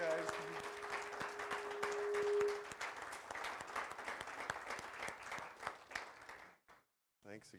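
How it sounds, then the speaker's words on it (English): A church congregation applauds its pastors, with dense, sustained clapping from a crowd that thins and stops near the end, and a brief voice and tone early on. "I'd like to give them a clap"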